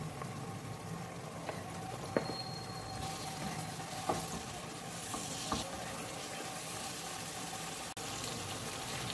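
Spices sizzling in a pan with turmeric, red chilli powder and salt while cooking shaljam chicken, a steady fry hiss with a few clinks and scrapes of stirring, close and alone with no talk.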